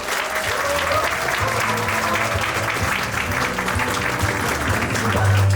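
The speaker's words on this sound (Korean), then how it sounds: "다시 한 번 더 수상하신 모든 분들께 축하의 박수를 담아 보내주시면 감사하겠습니다" An audience gives sustained, close applause to congratulate award winners at a Korean speaking contest for international students. The clapping is thick and uninterrupted, and a low hum creeps in right at the end.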